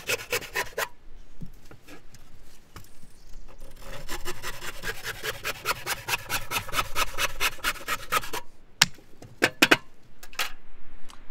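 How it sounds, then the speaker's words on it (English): Hand saw cutting through timber for a bird box, a steady run of rasping back-and-forth strokes close up, with pauses and a few sharp knocks near the end. "Okay, so that's all the timber cut."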